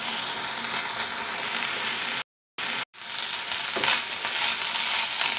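Ingredients fry steadily in a pan for a carom-leaf (ajwain leaf) rice dish, a loud continuous sizzle that cuts out briefly twice and then resumes.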